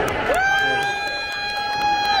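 Thoroughbred racehorses gallop past at a horse racing track in Johannesburg, South Africa, with a rapid run of hoofbeats under a long, loud sustained shout and crowd voices.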